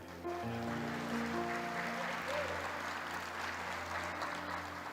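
Steady applause from a church congregation fills the space, a continuous wash of clapping with a sustained tone and murmuring underneath.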